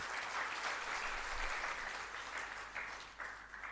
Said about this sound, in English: that deserves a clap for the program